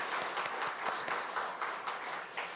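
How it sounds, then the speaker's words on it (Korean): A church congregation claps together in sustained applause, a dense, even patter of many hands heard from within the room without any voices. "주님께 영광의 박수 올리겠습니다"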